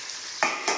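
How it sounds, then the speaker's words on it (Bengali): Hilsa fish fries in a pan with a continuous hiss and sizzle, broken by two sudden louder bursts of spattering oil, all close and with no talk. "ইলিশ মাছ ভাজা হচ্ছে"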